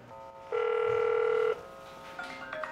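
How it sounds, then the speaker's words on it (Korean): An old household telephone, nearly 30 years old, rings in a single electronic burst lasting about a second, loud and close, followed by quieter room noise and handling sounds. "전화 왔어."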